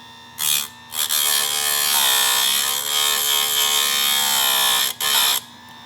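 A chainsaw sharpener grinds a tooth on a badly battered chain with the brake set, giving a loud, steady high-pitched whine that starts and stops briefly before holding for several seconds.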